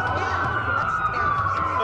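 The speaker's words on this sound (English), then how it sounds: "That's a lot of sirens for a" Police sirens in Watch Dogs wail steadily over a low rumble, holding a continuous high tone throughout.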